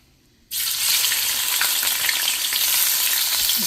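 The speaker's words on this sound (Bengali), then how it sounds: "এখানে তেলের মধ্যে আমি পেঁয়াজটা দিব এই মুহূর্তে" Onions hitting hot oil in a pot set off a loud, steady sizzle and crackle of frying that begins abruptly after a short quiet moment and carries on without a break.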